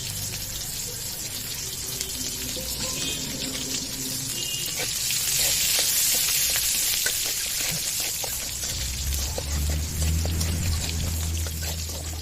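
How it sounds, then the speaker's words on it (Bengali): Whole cumin, dried chillies, bay leaf, chopped onion and garlic frying in oil for a Bengali mung dal muri ghonto with katla fish head. A loud, steady hissing sizzle runs throughout with no voices. "এবার আমি ফোড়নে দিয়ে দিব গোটা জিরা, গোটা শুকনা মরিচ আর তেজপাতা। দিয়ে দিব পেঁয়াজ কুচি,"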